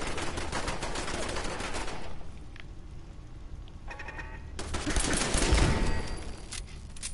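Gunfire from a gun in Fallout 4, loud bursts of rapid shots in the opening seconds and again near the end, with a quieter stretch between.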